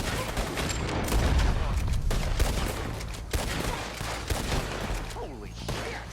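Gunfire shootout in a Red Dead Redemption 2 story mission: a dense, continuous fusillade of overlapping shots and booms, loud and close, with shouted voices mixed in.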